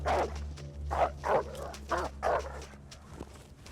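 Wolf in the survival video game The Long Dark growling and barking in a series of about five rhythmic bursts over a low steady hum, fairly quiet and with no talk.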